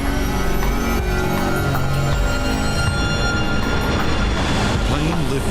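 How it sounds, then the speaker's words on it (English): Jet airliner engines roar at maximum takeoff power as the plane rolls down the runway and lifts off, a loud, dense, continuous rumble with rising whine tones heard from inside the aircraft. "The plane lifts off the runway."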